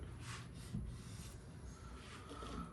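A cloth works a finish into a wooden charcuterie board, giving a soft, steady close-up rubbing and rasping that goes on without a break at low volume.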